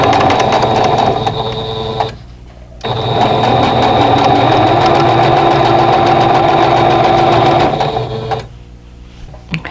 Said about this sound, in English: you don't have to worry about it flipping up while you're sewing.